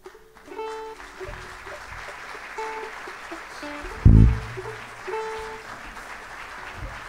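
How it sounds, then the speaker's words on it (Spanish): Audience applause fills an auditorium for a music association at a sacred song concert, a steady broad wash of clapping throughout with one louder low thump midway and faint tonal sounds mixed in. "fortísimos aplausos para la Asociación Musical Risco Azul"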